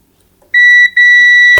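A buzzer on an inverter air conditioner circuit board under test gives a loud, clear electronic beep of about a second, with a tiny break partway through.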